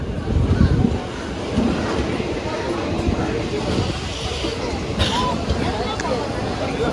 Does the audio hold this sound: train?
yes